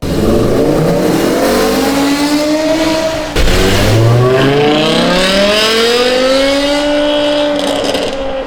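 A BMW V10 engine on its stock exhaust revs up loudly and steadily, pitch climbing and falling across several sweeping pulls, with a brief dip mid-way before another rising rev.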